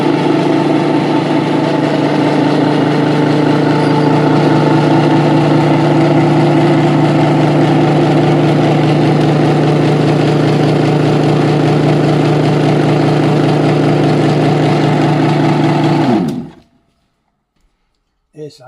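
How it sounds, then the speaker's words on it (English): Classic British motorcycle with a Lucas electrical system, 1966 to 1978 era, idling with a steady loud low engine drone and rhythmic exhaust pulsing for about sixteen seconds before cutting off abruptly to silence. "We start the bike."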